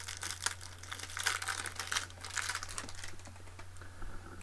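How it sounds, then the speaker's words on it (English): Plastic wrapping on a pack of Magic the Gathering Unsanctioned red cards is torn and crinkled open, close-up bursts of crackling and crumpling with short tearing rips over a faint steady electrical hum. "Now I'm going to open up the red cards."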